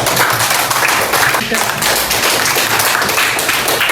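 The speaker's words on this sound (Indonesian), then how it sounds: "tepuk tangan untuk Aisyah" Classroom clapping for a student named Aisyah at an Islamic junior high school, loud close claps mixed with chatter and voices, continuous throughout.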